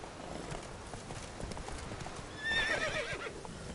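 Roach, the horse in The Witcher 3, heard as a steady run of hoof clip-clop over a busy game soundscape, with a brief whinny rising near the end and no voices.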